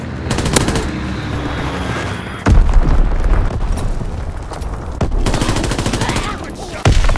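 Bomb blasts and bursts of gunfire in the Call of Duty: WWII video game, with loud booms near 2.5, 5 and 7 seconds over rapid machine-gun rattle throughout.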